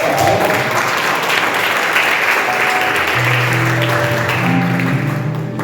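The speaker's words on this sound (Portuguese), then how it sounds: "E aplauda o nome do Senhor." A church congregation applauds, loud sustained clapping filling the space evenly from start to finish, with a faint hum and tone running underneath.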